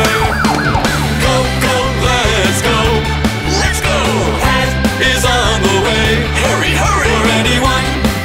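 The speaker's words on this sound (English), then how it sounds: "I am a police car, keeping our town safe" A wailing police car siren sweeps up and down through a loud, busy children's song with music and beats playing throughout.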